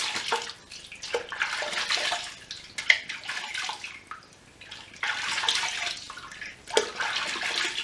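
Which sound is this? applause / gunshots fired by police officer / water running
water running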